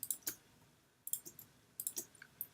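Sharp computer mouse clicks in small clusters of two or three, close and fairly quiet, while selecting groups of glass in a 3D modeling program, with short pauses between bursts.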